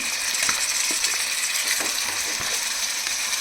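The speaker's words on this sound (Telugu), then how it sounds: "ఇప్పుడైతే మనం శుభ్రంగా కడిగి పెట్టుకున్న చికెన్ కూడా వేసేసుకుందాం" Washed chicken frying in a pan with capsicum and onions, a close, continuous oily sizzle broken by a few soft stirring knocks.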